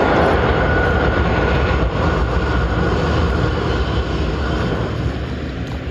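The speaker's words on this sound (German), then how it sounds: "Oh, da donnerte gerade ein Zug hinter mir durch." A train thunders past behind a paddler on the Elbe-Seitenkanal, a loud, continuous low rumble and roar that holds steady throughout, with no voices.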